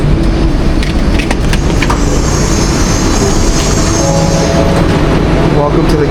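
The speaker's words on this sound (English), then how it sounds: "Welcome to the KLIA Express train going to the Kuala Lumpur Airport." A loud, steady rumble from inside the moving KLIA Express airport train to Kuala Lumpur Airport fills the whole stretch, with faint clicks and squeaks over dense low-frequency roar.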